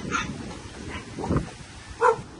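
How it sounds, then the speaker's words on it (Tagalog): Several dogs barking outdoors in gusty wind, a few sharp barks and yips spaced apart, moderately near, with wind noise underneath. "Kasi nagtatahulan yung mga aso."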